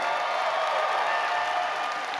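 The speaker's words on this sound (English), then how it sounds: "let's give one more round of applause for the last 20 years of" An audience at Star Wars Celebration applauding a tribute to Lucasfilm Animation, a dense, sustained roar of clapping from a large crowd that holds steady throughout.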